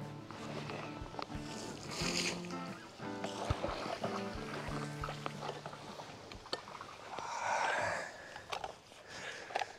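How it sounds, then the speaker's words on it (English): Water pouring into a garden pond during a clean-out, a gurgling, splashing flow with surging washes and scattered knocks, fairly quiet and steady without speech. "I'm now ready to start filling the pond."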